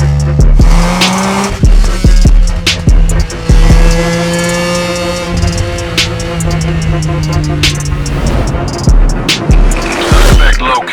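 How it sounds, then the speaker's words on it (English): A BMW M3 E46 drives hard through mountain roads in a game chase, its engine note rising and falling through gear changes with tire squeal and skidding, loud and close throughout. "BMW is heading into the mountains."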